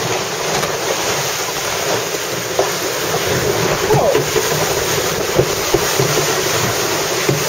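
Aboard a small offshore racing sailboat during a transatlantic race, steady wind roars and the sea surges and washes, with occasional soft knocks, close and continuous.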